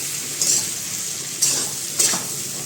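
Kankoda and potato shaak with salt, coriander-cumin powder and garam masala sizzles in a pan while a spoon scrapes and stirs in three short bursts over a steady frying hiss.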